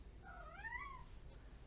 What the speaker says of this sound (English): That's right, cat. That's my cat.